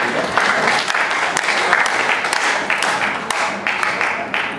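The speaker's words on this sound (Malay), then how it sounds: "Saudara Syukur, beri tepukan." A crowd at a school alumni reunion applauds continuously, a dense wash of clapping that holds steady from start to finish with a few louder individual claps and faint murmuring beneath.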